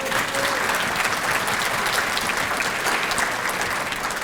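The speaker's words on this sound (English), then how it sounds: "So give yourselves a round of applause." Applause from a seated audience at a school district academic excellence banquet, steady and full, a continuous dense patter of many hands clapping with no speech over it.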